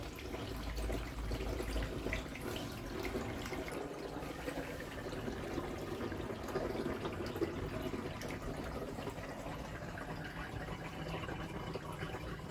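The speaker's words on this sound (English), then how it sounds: "Now that we are drained from the wash tub" Water running steadily out of an RV washing machine tub as it drains, a continuous close-up splashing and trickling that stays even throughout without any talk.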